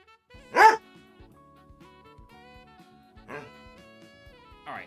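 Dog Holmes barks three times in short bursts, one loud near yap then two quieter barks, over a faint background of game music.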